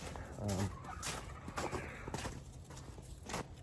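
Chickens cluck and chatter nearby in short bursts, with some shuffling and scratching around them.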